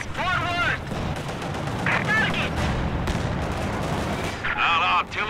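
Artillery fire in Company of Heroes 2, with a Soviet Shock Army on the Ettelbruck Station map: a steady barrage of booms and rumbling blasts, with falling shell whistles rising over the din at the start, middle and end.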